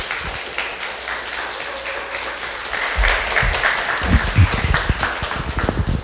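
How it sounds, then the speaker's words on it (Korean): Audience in a book-talk hall applauds as the guest author, a brain researcher, is welcomed onto the stage; steady crowd clapping builds and grows louder toward the end. "박수로 맞이해 주세요"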